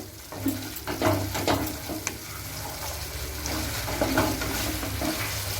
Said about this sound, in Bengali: একটু কষে নেব।